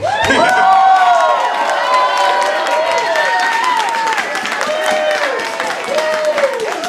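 A crowd at a film prize kickoff event applauds and cheers loudly for a $1,000 grant winner, dense sustained clapping with whoops and rising shouts throughout.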